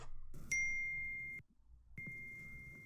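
Phone notification chime for a missed FaceTime call: two clear, bright, sustained ding tones, the first ringing out then cut off, the second starting after a short silence, fairly quiet and alone.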